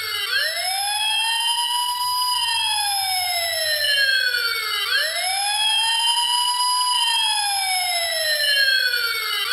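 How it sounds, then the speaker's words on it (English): A loud electronic fire engine siren from an E-Blox Circuit Builder toy kit wailing steadily, its pitch sweeping up and down in slow repeating cycles, with nothing else heard. "we hear a siren like that from the fire truck"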